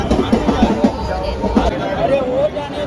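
A crowd at Thane railway station fills the air with dense, close babble of many overlapping voices, with a few louder voices breaking through the steady hubbub.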